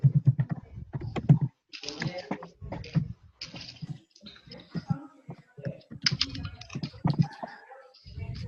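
Keys clatter on a computer keyboard during an online conversation class, bursts of quick close clicking broken by short pauses, with a voice talking over part of it.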